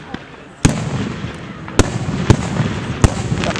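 Fireworks burst outdoors at a 2011 display in Huntington, giving five sharp, loud bangs spaced about a second apart over a steady wash of crowd noise and distant crackle.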